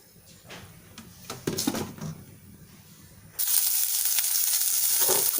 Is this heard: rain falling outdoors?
no